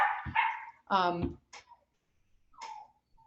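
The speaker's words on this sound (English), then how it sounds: "my puppy's barking" A puppy barks and yips at close range, several sharp bursts with brief pauses in between in an otherwise quiet room.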